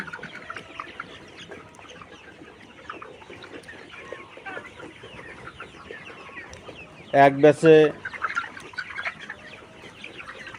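Layer pullet chickens on a poultry farm cluck and murmur steadily in a background din, with a sudden loud burst of squawking partway through while someone speaks briefly.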